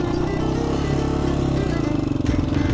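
Honda XL 500 R motorcycle riding over a small BMX dirt track, its single-cylinder engine a steady, close, loud drone with slight rises and falls in revs throughout.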